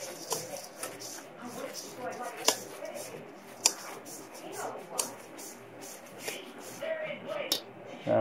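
Jamaican sweet potato pudding batter with spices is stirred in a bowl, giving soft scraping and occasional sharp clinks of the spoon against the side over a steady, quiet background.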